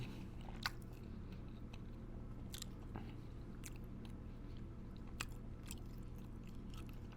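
Close, quiet chewing and biting of meatloaf with barbecue sauce, with soft wet mouth sounds and a few sharper crunches spread over a low steady hum.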